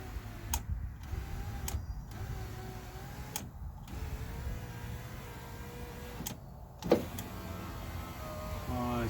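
Car power window motor driving the front window glass, several short whirring runs separated by pauses, with clicks at the start and stop of each run, close and fairly quiet, with soft handling noises and no talk.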